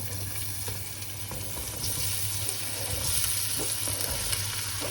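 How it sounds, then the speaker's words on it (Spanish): Chopped onion and garlic hitting hot oil in a pan for a pork tenderloin in sauce, giving a continuous close sizzle with light stirring scrapes, moderately loud and without talk. "Aceite caliente, así que ya va para adentro la cebolla y el ajo."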